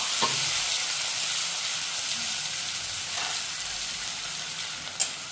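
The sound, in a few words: chopped onion frying in oil with asafoetida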